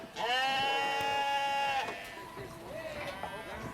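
Sheep bleat inside a livestock transport truck, with one long wavering cry up close, then fainter overlapping bleats, while a voice speaks softly in the background.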